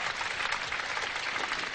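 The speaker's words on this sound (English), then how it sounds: "a great hand for him from a crowd, not a very big crowd here this morning" A sparse crowd at a 1978 Australia versus England Test cricket match applauds a batsman, giving a steady wash of clapping that holds at an even level throughout and sounds moderately distant.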